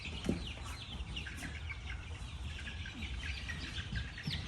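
Soft, repeated clucking from a hen in a barn among chickens and turkeys, faint and steady against a constant low background hiss, with chirps scattered throughout.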